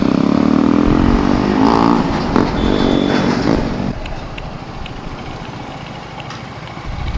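KTM motorcycles on a Republic Day group ride, an engine roaring loud and close as a bike passes, then fading to a lower, steadier rumble of traffic.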